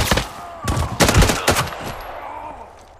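Bursts of gunfire from a Bison submachine gun in Arena Breakout, several close, loud volleys in quick succession that trail off into quieter echoing shots.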